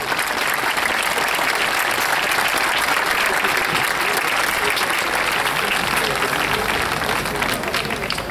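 Sustained, dense applause from a large audience at a Chilean military tattoo in 2017, held at the Templo Votivo in Maipú, steady and loud throughout with no gaps.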